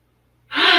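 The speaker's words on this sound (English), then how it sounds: "Take a breath, one more full inhale and one more full exhale." A single sharp, deep inhale during a yoga foot massage, a brief breathy rush that begins after a short silence and swells quickly, close and loud.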